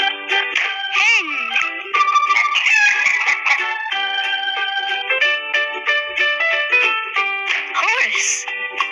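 A hen clucks repeatedly over bright electronic, tune-like tones in a children's animal-names game, the clucks loud and close.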